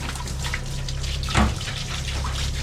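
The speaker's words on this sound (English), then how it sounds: "Okay, so I'm just gonna turn the water." Water runs steadily from a tap in a broad, constant hiss, with a short louder splash about halfway through, recorded close by.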